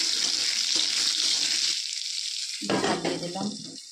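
Cut potatoes go into hot oil tempered with chili and nigella seeds, giving a loud, close sizzle that briefly drops away, then flares again in a strong bubbling burst.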